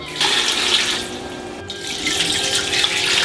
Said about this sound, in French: je mouille à hauteur, eau froide